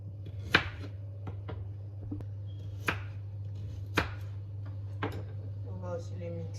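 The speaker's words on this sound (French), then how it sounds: "On va découper les carottes." A knife chops carrots on a board in a few sharp, separate knocks spaced about a second apart, over a steady low hum in a kitchen.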